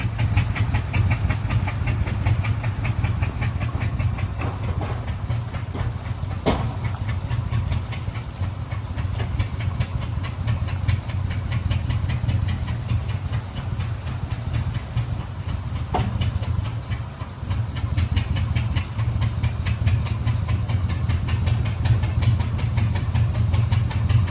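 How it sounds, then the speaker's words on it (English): A truck engine idles steadily in the background, a low continuous rumble with faint rattling, unchanging for the whole stretch. "You can hear the truck running back there."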